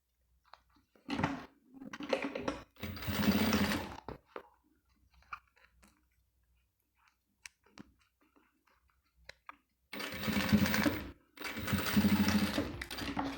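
Sewing machine stitching clear plastic and cotton fabric for a toiletry bag, running in several close, loud bursts of rapid mechanical clatter separated by quiet pauses with faint handling clicks.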